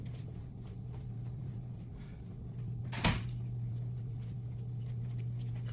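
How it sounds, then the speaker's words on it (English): A door shuts once with a sharp, solid thud in a quiet room, standing out clearly against a steady low hum. "let me close the door"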